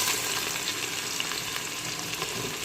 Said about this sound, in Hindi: इसमें हमने प्याज ऐड कर दिए हैं। ऑयल बहुत गर्म हो चुका था।